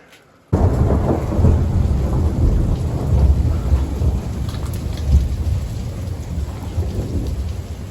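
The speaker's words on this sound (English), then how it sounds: "I just caught the clap of thunder." Rolling thunder during a heavy rainstorm at an old Tuscan villa, bursting in loud after a brief quiet moment and rumbling on under continuous hissing rain.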